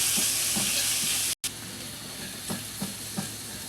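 Garlic paste frying in a pan with cinnamon, a dense steady sizzle close by with a few soft stirring knocks, briefly cutting out for a moment before resuming.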